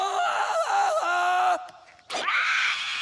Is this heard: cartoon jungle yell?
yes